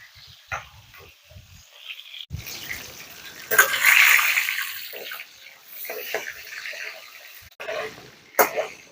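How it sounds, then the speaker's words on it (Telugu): Chicken leg pieces dropped into hot oil for gongura chicken, bursting into a loud hissing sizzle that swells in the middle and then settles, with kitchen clatter nearby. "ఆయిల్ వేడెక్కిందండి లెగ్ పీసులు వేసేసుకుందాం"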